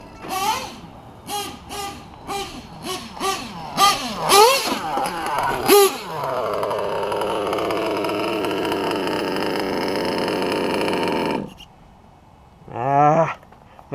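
Small nitro engine of a Tekno RC truggy, first a string of sharp revving blips, then a steady buzzing idle for several seconds that cuts off, followed by one more short rev; close and loud, no talk.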